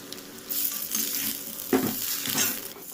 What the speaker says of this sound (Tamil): இதுலேயே 2 டீஸ்பூன் சோயா சாஸ் ஆட் பண்ணி நல்லா வதக்கி விட்டுருங்க.